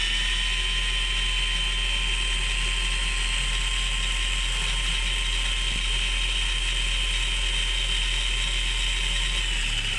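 An old RC10T radio-controlled truck runs out of balance, giving a loud, steady high-pitched mechanical whine and rattle that holds without a break throughout.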